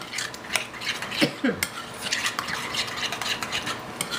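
Ingredients for roasted chicken mixed in a bowl, with a utensil scraping and clinking against the sides in quick irregular strokes. A few sharper knocks come through, close and clear.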